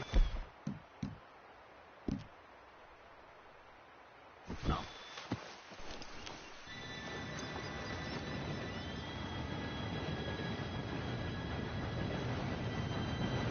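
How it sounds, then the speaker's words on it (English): Steady rumble of an approaching train in Red Dead Redemption 2, rising from about seven seconds and holding, after a few sharp knocks and footsteps near the start, with low murmured voices underneath. "Train should be here any minute."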